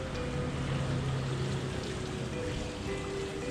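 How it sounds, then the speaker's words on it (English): A tiny hotel fountain trickles steadily into a little pool near a breakfast area, a continuous moderate splashing wash with low hum beneath, no voices. "There is a tiny small fountain over there."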